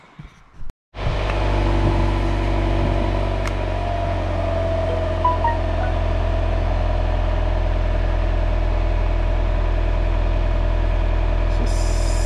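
A Honda Prelude idling with its stock exhaust before a test pipe install: a steady, low engine drone starts after a brief click and holds evenly, close and fairly loud.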